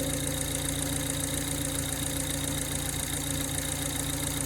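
A Ford Fiesta ST with an engine warning light and a fuel pump pressure fault idles steadily, giving an even, continuous mechanical hum with a faint rhythmic ticking throughout.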